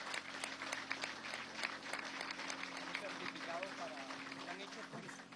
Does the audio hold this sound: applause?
yes